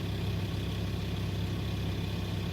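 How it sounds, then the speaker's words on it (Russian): A Volkswagen Touareg 2.5 TDI diesel engine idles quietly and evenly, a soft steady low hum with no voices. "И двигатель тихо начинает работать."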